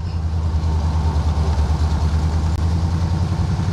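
A 1978 Corvette with a Motorsports Unlimited top end kit runs with its choke still on, giving a steady, loud, low engine drone that holds constant throughout with no voices.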